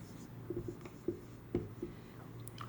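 A pen scratches across a paper receipt while working out a discount calculation, leaving soft, intermittent strokes with a few firmer taps, quiet and close, and no one speaking.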